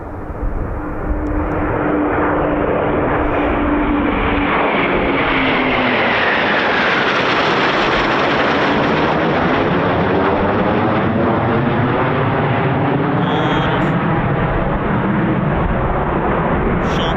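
Eurofighter Typhoon FGR4 fighter jet roaring through a sharp turn over RAF Coningsby, a loud sustained engine rumble and whoosh with a shifting pitch as it banks, heard alone throughout.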